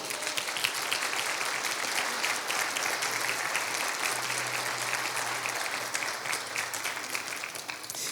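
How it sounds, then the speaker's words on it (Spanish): Church congregation applauding loudly and steadily for about eight seconds, a dense continuous wash of clapping with no voices standing out. "Y denle un fuerte aplauso a Jesús."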